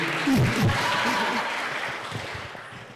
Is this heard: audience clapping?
yes